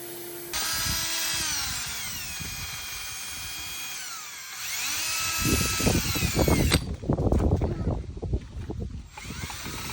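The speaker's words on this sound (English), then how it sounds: "I just wrapped up sandblasting everything." A Harbor Freight sandblaster blasting parts from a 1974 Ford F-250 restoration, a loud sustained hiss that cuts off and restarts, with a harsher rumbling roar near the end; no talk over it.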